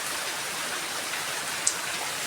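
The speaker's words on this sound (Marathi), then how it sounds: "बघा काय पडतोय तो पाऊस" Steady, dense unseasonal May rain pouring down in the Konkan, a continuous heavy hiss with no voices.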